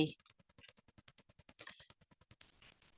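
Rapid computer clicks on a keyboard or mouse while working in an Excel spreadsheet, a steady run of sharp, close taps roughly every tenth of a second, ending in a softer rustle.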